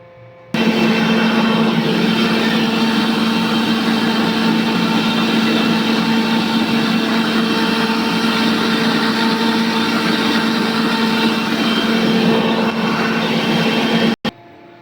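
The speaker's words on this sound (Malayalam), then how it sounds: "പിന്നീട് ഇതുപോലെ നല്ലോണം ബ്ലെൻഡ് ചെയ്യുക." An electric mixer blender grinds ingredients in one loud, steady whir that starts abruptly, holds for about fourteen seconds and cuts off sharply, with no talk over it.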